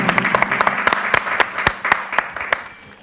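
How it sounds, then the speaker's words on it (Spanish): Studio audience at a live show claps in a lively burst, sharp individual claps cracking over the crowd's steady applause, which eases slightly toward the end. "por favor, un aplauso para la gata."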